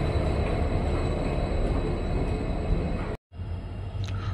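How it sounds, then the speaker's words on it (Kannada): Kuvempu Express, a Talaguppa to Mysuru train hauled by a WDP4D diesel locomotive, pulling out of Shivamogga Town station: steady loud rumble and rattle of the carriages throughout, with a brief cut near the end. "ನಮ್ಮ ಟ್ರೈನ್ ಇವಾಗ ಶಿವಮೊಗ್ಗ ಟೌನಿಂದ ಹೊರಟಿದೆ."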